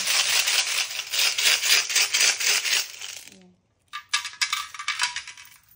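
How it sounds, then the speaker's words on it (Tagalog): Coins pour and jingle into a piggy bank in a continuous metallic rattle, stop briefly, then tumble in again with another burst of clinking, close and fairly loud. "lalagay natin yung mga barya-barya"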